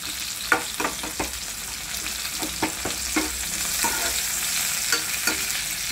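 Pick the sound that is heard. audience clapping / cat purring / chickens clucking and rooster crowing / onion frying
onion frying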